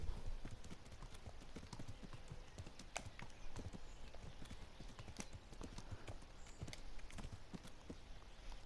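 Horse hooves clip-clop steadily along a path in the medieval video game Kingdom Come: Deliverance, a continuous rhythmic trot of close, moderately loud hoofbeats with no talking.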